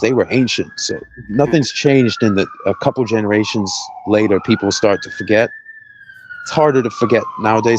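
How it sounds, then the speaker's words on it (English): Emergency vehicle sirens wail through a city, rising and falling in long sweeping tones that run almost throughout, loud beneath someone talking over them. "Sorry about the sirens."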